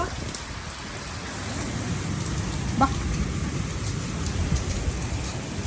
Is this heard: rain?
yes